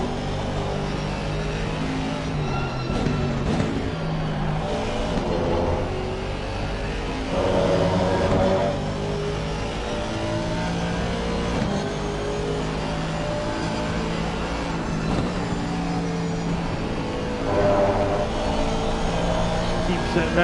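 Ferrari and Aston Martin GT race cars run at Kyalami in Assetto Corsa Competizione, engines droning and revving loudly throughout with gear-change swells, while a commentator talks over them.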